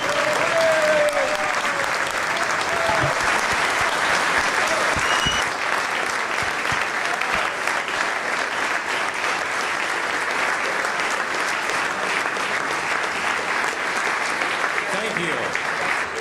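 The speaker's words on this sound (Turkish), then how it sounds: "üyeleri başkanlık adayını başkanlığa kabul edip onaylamak için alkışlamaya davet ediyorum." An audience at a UCLG congress applauds to approve the re-election of Kadir Topbaş as president, with loud, dense clapping from a large crowd that continues steadily for about sixteen seconds.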